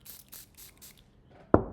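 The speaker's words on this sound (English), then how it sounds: "We got our little spray to soak the paper." Four short hissing spritzes from a water spray bottle soaking paper, in a steady rhythm, close by, followed by a sharp tap or thud.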